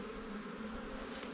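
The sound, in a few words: honey bees buzzing during hive inspection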